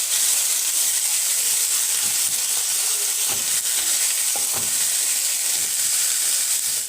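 Garlic and spice paste frying in hot oil makes a loud, continuous hissing sizzle, close up, with a few light stirring clicks partway through and no talking.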